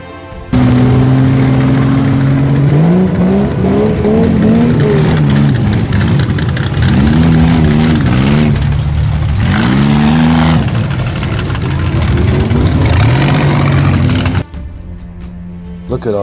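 Lifted mud bogging trucks rev their engines hard at a Blessing of the Trucks mud bog event, loud and close, with rising and falling throttle sweeps over a rough idle that cut off sharply near the end.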